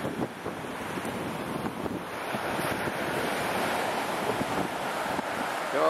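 Strong wind buffets the microphone over steady surf and breaking waves on a nearly empty Pacific beach at Odawara, Kanagawa, in Japan, a continuous loud roar that holds without a break.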